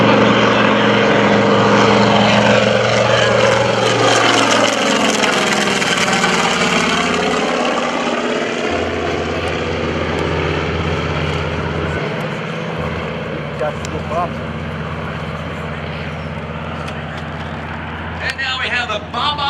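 A TBM warbird propeller plane passes at an airshow, its engine drone rising then sweeping down in pitch as it flies by, loud and steady, with a commentator talking over it.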